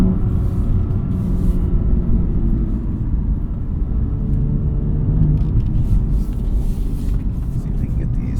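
BMW M2 driving through Detroit streets, a steady low engine and road rumble heard from inside the cabin, continuous and fairly loud, with faint voice sounds underneath.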